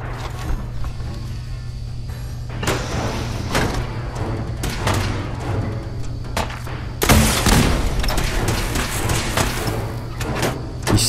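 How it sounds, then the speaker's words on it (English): A rocket launcher fires in the Fallout 4 video game amid a firefight: scattered mechanical clanks and shots give way to a sudden loud blast around the seven-second mark that rumbles on before a final hit. "I got a rocket launcher, didn't I?"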